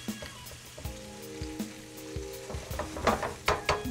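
Potatoes fry in a pan like hash browns, sizzling close by with sharp crackles and pops that get busier and louder toward the end, with no voices.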